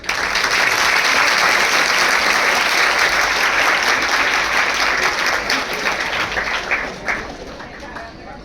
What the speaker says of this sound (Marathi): विद्यार्थ्यांनी त्यांच्यासाठी एकदा जोरदार टाळ्या वाजवा.